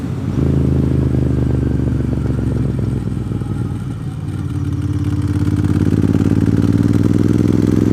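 A 2009 Ducati Monster 1100 ridden on GA60, a winding road south of Blue Ridge, Georgia, its engine a loud, steady low rumble that dips briefly, then rises again as the throttle opens, with constant wind noise.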